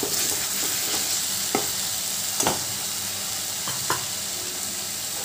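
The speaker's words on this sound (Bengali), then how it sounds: "মশলাগুলো সব এবার ভালো করে কষিয়ে নেব" Ginger paste, turmeric and chilli powder frying in a pan for a katla fish malai curry, with an even sizzling hiss and a few sharp spatula scrapes and clicks, close with no talking.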